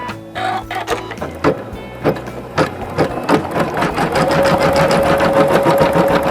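A sewing machine, running at reduced speed, stitches an embroidered rope bowl with loud, close, rhythmic needle clatter and a steady motor whir throughout.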